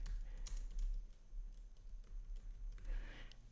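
Soft keystrokes on a computer keyboard while text is typed into a Canva thumbnail design, a quiet, irregular patter of light clicks close to the microphone.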